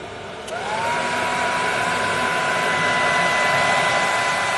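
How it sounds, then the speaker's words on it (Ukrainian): A hair dryer running on its second power level from a portable power station gives a steady, loud blowing roar with a faint whine that rises and settles just after it switches up. "Наша електростанція тримає перший режим роботи нашого фену, перший рівень потужності."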